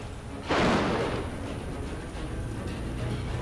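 A summoned lightning strike in The Witcher video game hits with one loud, sudden crack-boom that dies into a rumbling tail, then a steady din of background game noise.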